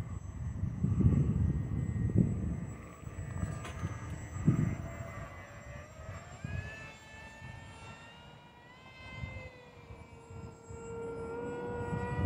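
A remote-control model airplane with an electric motor flies overhead, its whining motor drone shifting in pitch as it passes and banks. A steady breathy rumble of wind fills the low end throughout.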